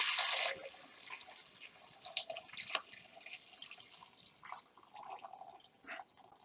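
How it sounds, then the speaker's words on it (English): Chicken soup broth is poured through a strainer for matzo ball soup, with a close, uneven splashing and trickling that starts strong and then thins into scattered drips and gurgles. "now we're going to do a quick strain. So just give this a pour through."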